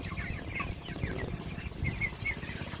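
A flock of 45-day-old broiler chickens in a rural pen keeps up soft, overlapping clucks and murmuring calls. The birds sound close and there is no talk.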